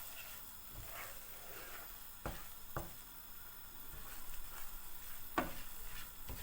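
Flour halva fries in a pan with a soft, steady sizzle while a utensil stirs it, giving occasional sharp scrapes and taps against the pan, close and quiet.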